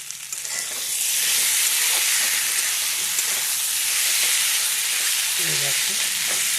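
Potatoes frying in oil in a pan after a small splash of water, giving a loud, steady broadband sizzle and hiss that swells early and holds throughout, with faint stirring underneath.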